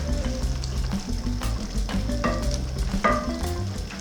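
Omena fish fry in a pan in a Kenyan village kitchen, stirred with close, busy scraping and clatter over a steady sizzle.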